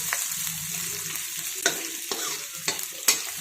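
Green chillies and crushed garlic sautéing in a pan over low heat, a soft continuous sizzle broken by several sharp spatula scrapes and taps, close and fairly quiet.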